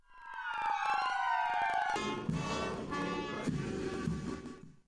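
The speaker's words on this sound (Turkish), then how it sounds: "siren eşliğinde 2 dakikalık saygı duruşunda bulunuldu" A loud wailing siren rises and falls steadily during a two-minute moment of silence at an Atatürk memorial ceremony in Erzurum, sustained and prominent, with no voices heard.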